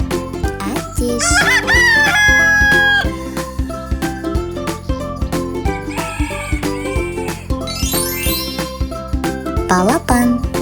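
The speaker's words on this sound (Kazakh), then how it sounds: "Әтеш." A rooster crows loudly in a long, rising and falling call near the start, set against upbeat children's music with a steady rhythmic beat, with more bird-like calls later.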